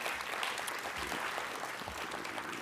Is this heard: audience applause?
yes